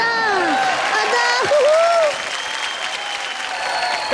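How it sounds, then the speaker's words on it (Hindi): A TV comedy show studio audience bursts into loud, sustained applause mixed with crowd noise, while a voice calls out over it. "जोरदार ताली।"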